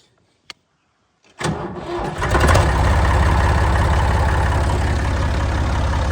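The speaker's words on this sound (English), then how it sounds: "Not quite a cold start, but close enough, I guess." A tractor engine, not quite cold, cranks briefly after a click, catches and settles into a loud, steady idle heard close with no talk.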